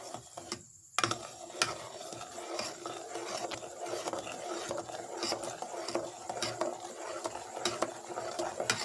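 Tomato ketchup mixture with sugar and spices stirred in a pot, a steady scraping and swishing with soft clinks of the spoon against the pan, close and continuous after a brief quiet start.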